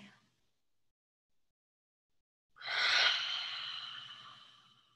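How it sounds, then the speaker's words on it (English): A single deep breath during a guided meditation, a brief inhale and then a long, airy exhale fading over a couple of seconds, close and alone after near silence. "Deepen the breath here, inhale and exhale."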